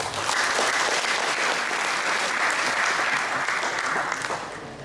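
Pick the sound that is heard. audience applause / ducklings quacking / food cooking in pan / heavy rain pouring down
audience applause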